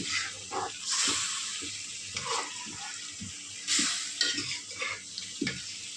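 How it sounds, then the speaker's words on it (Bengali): Hilsa fish being fried and stirred in a pan of cooked-down spice paste, with a steady sizzle and repeated scraping stirs of a spatula, close and fairly loud, no talking. "এখন আমি ইলিশ মাছটা কষায় নিব। ইলিশ মাছটা কষায় নিতেছি।"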